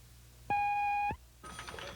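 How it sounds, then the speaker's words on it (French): Answering machine beep after a French voicemail greeting: a single steady electronic tone lasting about half a second, loud and clean, followed by a short gap and then room noise with a voice beginning to speak. "Veuillez laisser votre message après le signal sonore."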